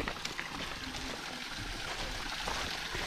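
A stream in Mindoro flows with a steady, close rushing and trickling wash of water that runs evenly throughout.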